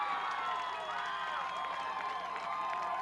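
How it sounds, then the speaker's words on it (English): A dense crowd at a boys high school lacrosse playoff quarterfinal roars and claps after a goal, sustained cheering and whoops filling the air at full volume throughout. "And a big round of applause"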